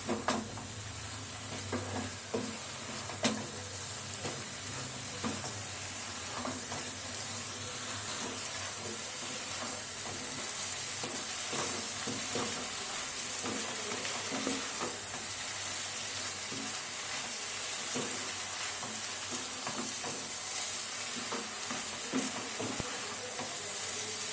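Ash gourd (chalkumra) fries in a pan for a vegetarian Bengali ghonto, giving a steady, close sizzle throughout with occasional soft stirring knocks and no talking.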